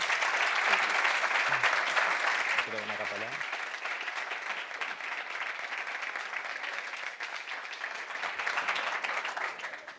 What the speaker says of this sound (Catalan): els demano un fort aplaudiment